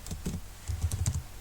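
Close, crisp taps on a computer keyboard come in a quick uneven burst as a question is typed out, with no speech over them.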